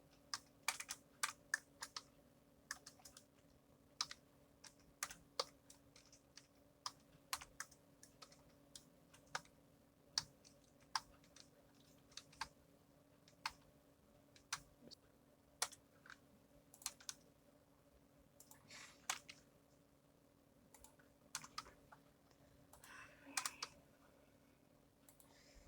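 Java switch-case code being typed on a computer keyboard gives a steady run of light, quick key clicks, irregular bursts with brief pauses, close and quiet over a faint hum, with no talking.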